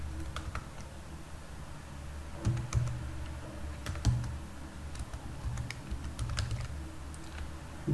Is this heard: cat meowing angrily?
no